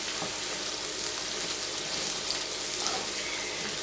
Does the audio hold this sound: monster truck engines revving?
no